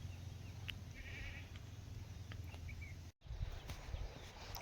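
Goats bleat in a rain-soaked farm shed, a few faint, short calls at a distance over steady background noise, with a brief dropout partway through.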